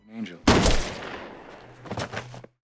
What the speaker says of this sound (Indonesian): Miles menembak Alex dari belakang